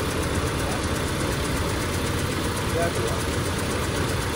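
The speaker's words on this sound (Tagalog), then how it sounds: "Palyado yan. Hindi ganyan andar ng 2TR." A gasoline Toyota Fortuner with a 2TR engine idles with a misfire and heavy vibration, giving a steady, rough, uneven rumble close by with no pauses.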